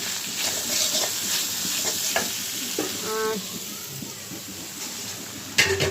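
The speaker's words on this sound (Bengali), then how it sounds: "এদিক দিয়ে আমার পেঁয়াজের কলিটা সিদ্ধ হয়েছে, এখনো ভাজা হয় নাই, আরেকটু ভাজবো" Spring onion stalks, already softened, fry over a low gas flame in a pan alongside broccoli, potato and tomato, a constant close sizzle with occasional stirring scrapes and a louder clatter at the end.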